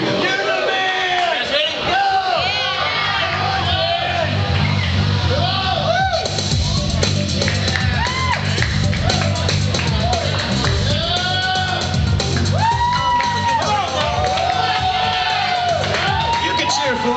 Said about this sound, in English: You can cheer for him. Don't be shy.